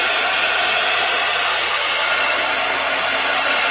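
A hair dryer blowing on paper being dried for cards, a loud, steady, close-up roar of rushing air that holds constant throughout with no voices.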